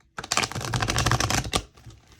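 A deck of cards being shuffled close up, a quick rapid riffle of crisp fluttering clicks lasting just over a second before it stops.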